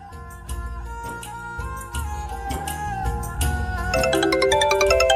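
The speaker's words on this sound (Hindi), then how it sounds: "ये तेरा फोन बज रहा है," A phone ringtone plays a bright electronic melody, growing fuller and louder toward the end, with no voices over it.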